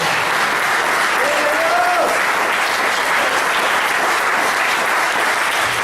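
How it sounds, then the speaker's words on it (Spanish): A church congregation bursts into loud, sustained applause, dense continuous clapping filling the room evenly throughout, with a faint voice briefly audible beneath it. "Denle un aplauso a la palabra de esta noche."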